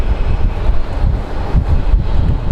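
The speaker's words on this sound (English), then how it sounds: "The wind is pretty insane right now" Strong wind buffeting a microphone at Sky Harbor International Airport in Arizona, with low-visibility weather: a loud, steady rumbling roar with gusty swells and no voices.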